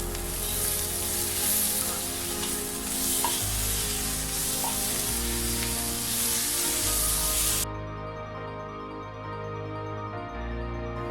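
Chopped tomatoes fry with spice powders in a pan for mushroom masala, a loud continuous sizzle with stirring that quiets noticeably partway through as the hiss fades.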